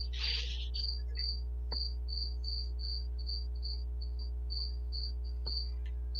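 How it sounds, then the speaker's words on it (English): Crickets chirp in a steady run of short, evenly spaced pulses, fairly close and clear above a low constant hum, with a couple of faint clicks and no talking. "These stupid crickets, they're so aggressive."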